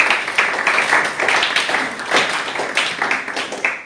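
A church congregation claps and applauds in a rhythmic, steady patter of many hands, loud and fairly close, continuing throughout with no clear talk.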